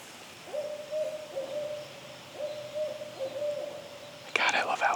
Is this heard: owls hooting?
yes